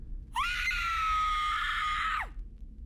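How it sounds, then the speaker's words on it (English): A woman lets out a single loud, sustained high-pitched shriek lasting about two seconds, ending with a sharp downward drop in pitch. "She jolted her head up and let out a massive shriek."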